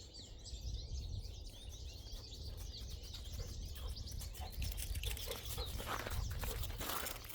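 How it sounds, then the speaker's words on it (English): Birds chirp and call steadily near backyard feeders by a beaver pond, a busy overlapping chorus that may include grackles, starlings and chickadees, heard from a little distance over a low outdoor rumble. "I don't see too many. They're way up there. But I can hear them. Grackles, starlings, chickadees,"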